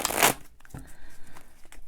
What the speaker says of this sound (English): and give that a shuffle. These are not the best quality cards. They are just kind of glossy cardboard.